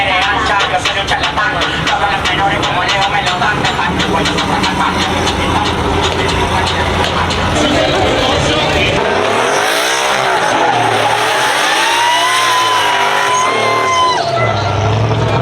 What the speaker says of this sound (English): Oh, popping clutches.